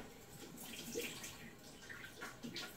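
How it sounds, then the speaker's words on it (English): Water splashed onto the face in a quick rinse after a wet shave, faint soft splashes and trickling at a sink, close but quiet. "so I'm just going to give my face a quick rinse off"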